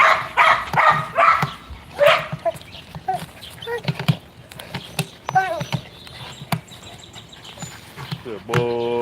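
Several dogs, among them one named Major, bark, yip and whimper in quick uneven bursts while they play, loud and close, with a person's voice breaking in at times.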